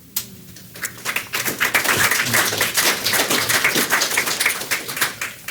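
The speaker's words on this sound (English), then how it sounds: "ask you to hold the applause until afterward" Applause for a retiring Public Works employee at a county commissioners' meeting, a sustained burst of many hands clapping in a room, swelling after a quiet start and holding steady.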